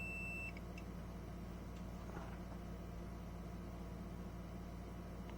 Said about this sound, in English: Of course I say that and it has to beep